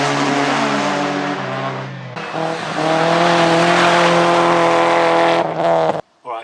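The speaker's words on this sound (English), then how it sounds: "Alright, so that is Motorkhana racing." A full-size car races through a Motorkhana event, its engine roaring loud and close with a steady note that rises and falls. The tires skid as the engine drops away, then a short burst of sound follows.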